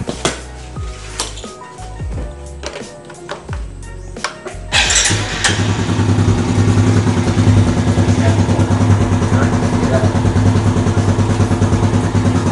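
A fuel-injected Yamaha Jupiter Z1 motorcycle engine idles too high during a workshop service, its steady close rumble starting midway after a run of light metallic clinks and taps.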